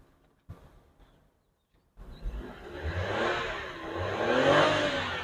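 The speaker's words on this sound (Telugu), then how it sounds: "ఇంజన్ చూసుకోండి, చాలా స్మూత్గా ఉంది." A used Maruti Estilo with a CNG and petrol setup, its engine idling and then revving up twice in rising surges, close and smooth, after a few soft knocks and a short quiet gap.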